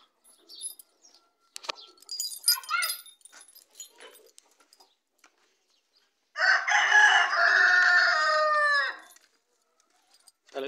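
A rooster crows once in a loud, drawn-out call in a poultry yard with sitting hens, after scattered soft clucks and faint rustling, with long quiet gaps between.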